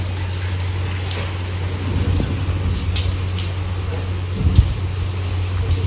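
Steady rain pattering on a surface, a constant wash of drops with a low continuous hum beneath and occasional louder splashes.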